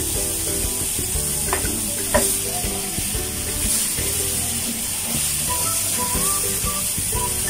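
Garlic sizzles steadily in a hot pan for a pork chop steak dish, a continuous close frying hiss with occasional stirring scrapes and no talk.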